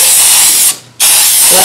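Aerosol can of matte workable fixative spraying in two loud, close hissing bursts separated by a brief pause.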